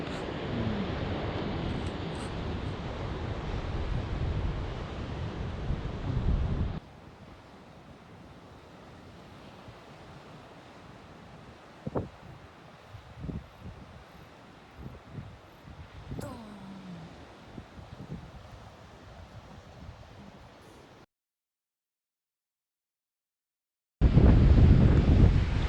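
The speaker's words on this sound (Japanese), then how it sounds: "風が強いですね" Strong wind buffets the microphone on a surf beach at Onjuku, loud and continuous with rolling surf beneath, then drops to a quieter breezy wash with occasional gusts and knocks, a short silence, and a sudden loud gust burst at the end.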